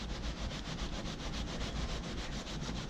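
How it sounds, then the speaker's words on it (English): A solvent-soaked towel rubs across an RV roof near a large skylight, making a continuous close-up scrubbing sound with steady rhythmic strokes. "You're just gonna soak some of this into the towel. and we're gonna rub it into there, and most of it's gonna come off."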